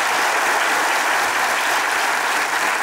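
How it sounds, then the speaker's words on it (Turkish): Loud, dense applause from a crowd greeting a performing arts group at a show, continuous and even with no pauses from start to finish. "Sanat grubumuzla alkışlayalım."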